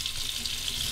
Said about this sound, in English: soak it under the cold water,